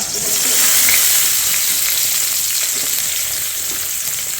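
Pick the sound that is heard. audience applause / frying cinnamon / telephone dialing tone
frying cinnamon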